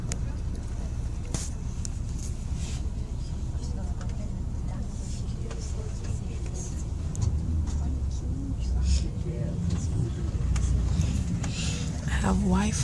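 Steady low rumble of a bus on the road heard from a window seat inside, a continuous engine and road drone running throughout with faint cabin noises and no clear talk.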